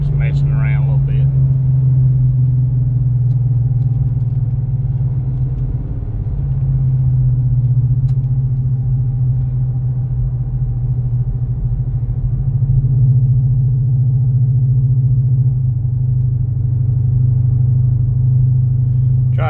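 Built 2008 Dodge Charger R/T with a 3200 stall converter, heard from inside the cabin on a cold day: a loud, steady low engine drone holds throughout with only slight swells, with no sharp rev climb standing out.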